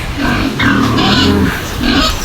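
Pigs grunting and snorting close by, a busy overlapping chorus of rough, low grunts with squealing edges, continuous through the clip.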